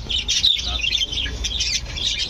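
Hagoromo canaries in a small breeding aviary, giving busy, overlapping high chirps and squawky calls close by for a couple of seconds.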